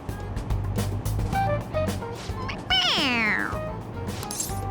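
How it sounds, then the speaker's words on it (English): A toy cat in Persona 5 Royal meows when its head is pressed, giving one clear, rising-then-falling meow midway, set over steady game music and background sound. "It's, a toy. It meows when you press on its head."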